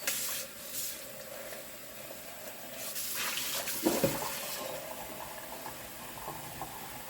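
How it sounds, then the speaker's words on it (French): Water poured into a pot while making blackberry jam, a steady splashing, hissing stream over a few seconds, close and fairly loud with no talking. "Je vais mettre de l'eau tout de suite, sinon ça va le colorer."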